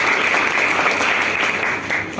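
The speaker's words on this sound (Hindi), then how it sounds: "आप सब एक बार अपने लिए भी तालियां।" An audience at a school National Youth Day function claps steadily, a dense mass of hands at fairly close range, with a voice speaking faintly beneath the applause.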